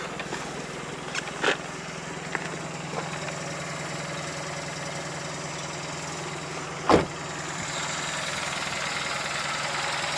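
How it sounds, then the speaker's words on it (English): A 2015-style Fiat 500 0.9 Lounge with an 85 bhp two-cylinder petrol engine idles steadily, a continuous low rumbling hum with one brief louder knock partway through, heard close with no talking. "So I'll jump back out of the car with the engine running."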